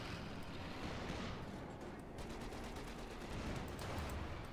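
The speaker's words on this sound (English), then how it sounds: "Bit of skirmishing there up north" Distant rattling gunfire and scattered shots rumble continuously through a skirmish in the strategy game Company of Heroes 2, a dense wash of battle noise with no voice over it.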